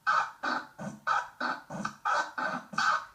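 A DJ record scratch through a mixer with the fader opened produces nine short, sharp, evenly spaced bursts with a honk-like, goose-sounding tone, loud and alone.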